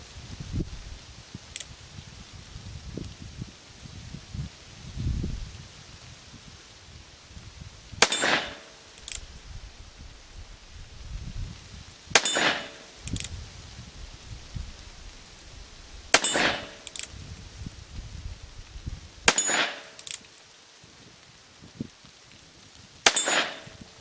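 A Colt Single Action Army revolver in 32-20 with a 7 1/2 inch barrel fires test ammunition outdoors: five sharp, loud shots spaced several seconds apart, each with a short ring, over light rustling background.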